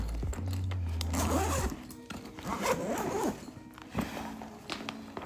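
The zipper of a The North Face Base Camp Voyager backpack is pulled open in a few close, rasping runs, followed by soft handling rustles.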